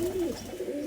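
A young magnet pigeon coos close by, one short, soft, throaty call with a wavering pitch.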